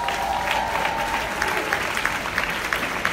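Audience at an awards ceremony claps in a steady burst of applause that carries through the whole moment, moderately loud and fairly even, with a bit of crowd noise mixed in.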